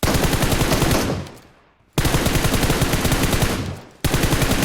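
Sustained automatic gunfire from a video game shooter (One Man Squad mode), loud dense bursts of rapid shots that fade briefly into silence twice before resuming at full intensity.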